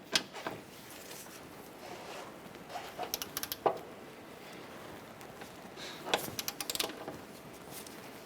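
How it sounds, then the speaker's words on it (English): Torque wrench tightening a strut bolt to 35 foot-pounds on a 2008-2012 Honda Accord, two bursts of quick ratcheting clicks up close over faint background hiss. "Let's go ahead and torque this down to 35 foot-pounds."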